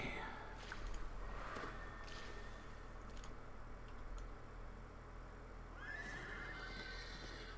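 A horse neighs a couple of times in a video game over a steady game soundscape with background noise and a faint hoof-like shuffle.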